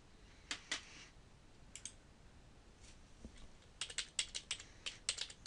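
Someone types a sudo chown command on a computer keyboard: a few separate keystrokes, then a quick, close run of sharp clicks near the end, with no talking.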